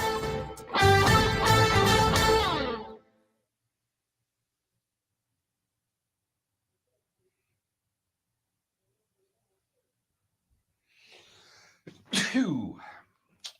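A single sharp sneeze bursts out near the end after a long silence, preceded by a few seconds of loud music.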